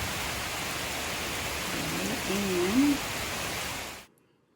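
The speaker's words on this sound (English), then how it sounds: "I can hear the rain coming down now." Steady rain coming down outside as broadband hiss through most of the clip, with a brief voice murmuring over it before the sound cuts off abruptly near the end.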